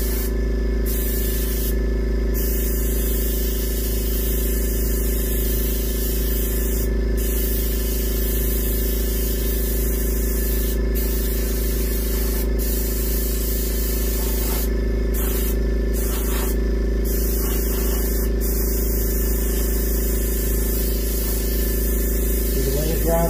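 Polyurethane gloss coat sprayed onto a reproduction warmouth fish replica, a continuous loud, even hiss of the spray gun lasting throughout with brief pauses, while a voice talks over it.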